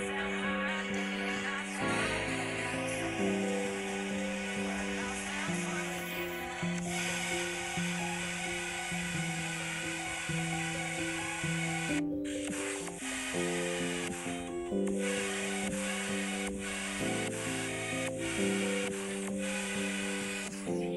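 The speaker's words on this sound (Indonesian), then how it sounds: "Oke, ini suara dari iPhone gue ya guys" Music plays from an iPhone 12's twin stereo speakers held close to a microphone: a continuous melodic track with shifting sustained tones, fairly loud and unbroken for the whole stretch, with no voices.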